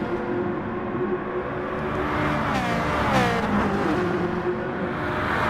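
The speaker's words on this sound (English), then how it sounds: "Lovely sound of the Ferrari F40 around here" A 1992 Ferrari F40 running a lap of Monza in a racing game, its engine droning steadily close up and rising and falling in pitch as the car shifts gears, with no voices over it.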